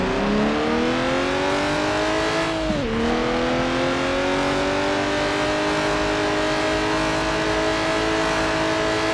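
A race car engine revs on an oval track in a video game, a loud, continuous droning whine that dips sharply in pitch partway through and then holds steady, with no talking.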